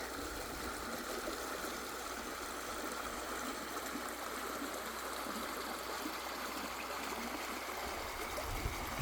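Humbug Creek rushes and burbles steadily nearby, a constant flowing sound with no voices.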